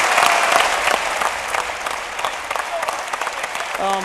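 A large crowd applauds at the EVE Fanfest 2015 Worlds Collide tournament, a loud, dense and steady roar of clapping that fills the whole span, with a brief voice-like tone near the end.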